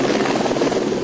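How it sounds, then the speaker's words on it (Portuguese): Military Police helicopter flying overhead, a steady loud rotor drone with rhythmic blade chop filling the whole moment, with no voices. "O helicóptero da Polícia Militar transportou as vítimas em estado mais grave para Montes Claros"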